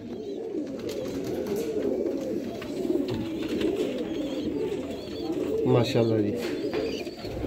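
Pigeons kept by a fancier in Sialkot coo softly and repeatedly close by, under a voice speaking.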